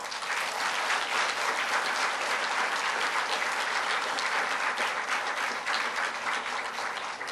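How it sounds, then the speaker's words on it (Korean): Sustained, dense applause fills the hall at the closing session of the 2014 Ombudsman Global Conference as the audience honors the speakers, a steady loud wash of many clapping hands with no break. "모든 분들께 큰 박수를 보내주시기를 요청합니다"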